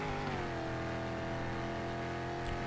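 A car engine in a Roblox racing game climbs steadily in pitch as it strains to accelerate toward top speed, a continuous, loud synthetic revving drone with rising harmonics and no talking.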